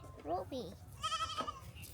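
A goat bleats nearby, a couple of short wavering calls followed by a longer bleat, with faint background noise.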